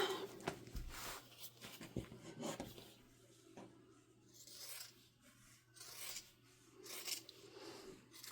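Rotary cutter slicing through denim from a pair of jeans on a cutting mat, heard as repeated soft rasping strokes at close range, with quieter pauses in between and no talking.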